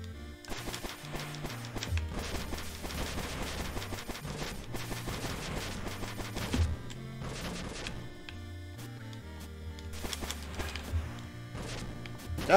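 Bombs from a boss in the game Everblade burst in rapid, crashing clusters against a pulsing, melodic game soundtrack, with loud explosive hits arriving in dense volleys throughout.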